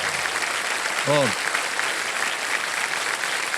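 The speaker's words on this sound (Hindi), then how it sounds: "तालियां बजती रहें देवी सज्जनों।" Steady applause from a studio audience on a TV quiz show, dense clapping filling the whole stretch, with a single brief spoken word over it.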